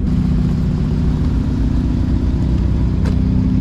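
Cars arriving at a drag strip event give a loud, steady low engine rumble close by, with a brief sharp click near the end.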